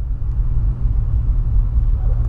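A manual car's engine pulls away in third gear as the clutch is let out and the throttle pressed, a steady close low rumble held throughout with no talk over it.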